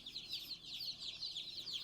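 Chickens on a homestead cluck softly and continuously close by, a quiet murmuring flutter of fowl chatter with no talk.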